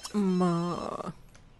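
A telephone in The Sims 3 gives one short, bright electronic ring, close and clear, cut off after about a second, with someone talking in the same moment.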